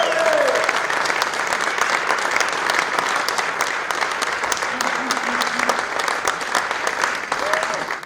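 Sustained applause from an audience at a corporate awards event in a convention centre, steady dense clapping that carries on for the full stretch with a faint voice or two underneath.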